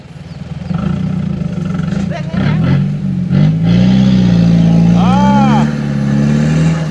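A dump truck's engine revs up and holds a rising roar as it is put in gear, with a brief squeal-like tone partway through and people talking nearby.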